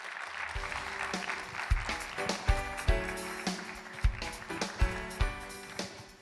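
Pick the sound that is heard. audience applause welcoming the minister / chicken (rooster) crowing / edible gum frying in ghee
audience applause welcoming the minister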